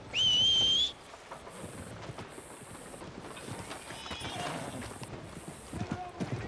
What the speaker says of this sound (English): where did I leave my horse?